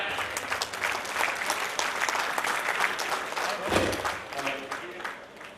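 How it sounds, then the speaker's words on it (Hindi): An audience at a Lions district cabinet installation event breaks into strong, sustained applause, dense clapping filling the hall steadily from start to finish. "एक जोरदार ताली।"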